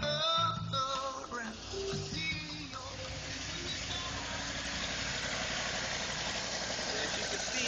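A 1989 Ford F-250 pickup with the 5.8L EFI V8 idles steadily after starting, a continuous low rumble with a faint mechanical whir, heard up close with no voices.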